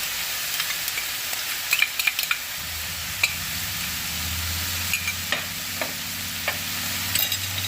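Chicken lasagna filling with tomato sauce is stirred in a pan, a steady soft sizzle broken by scattered scraping clicks of the spoon against the pan, close and moderately quiet.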